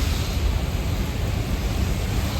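Steady monsoon rain pours down on a road, a dense broadband hiss with no breaks, fairly loud and alone with no voices.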